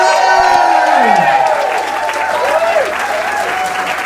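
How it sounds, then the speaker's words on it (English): An audience claps for a comedian at a stand-up comedy charity challenge, loud sustained applause with some cheering and voices in the crowd, filling the whole moment before tapering slightly. "Let's have a proper round of applause for Darren!"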